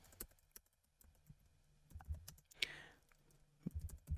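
Typing on a computer keyboard while entering a pip install command into a Google Colab notebook; scattered close clicks and taps in irregular bursts, fairly quiet, with no talk.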